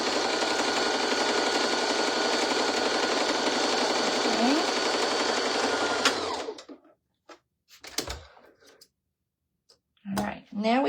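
A sewing machine stitches fabric for a bowl cozy, a loud steady mechanical whir running continuously for about six seconds before stopping, followed by brief soft handling noises.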